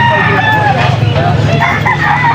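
A rooster crows loudly and close by at a poultry market in Pampanga, a drawn-out call rising and falling, with a low murmur of voices underneath.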